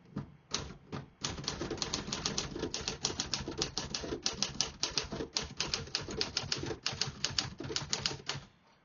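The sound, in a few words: manual typewriter typing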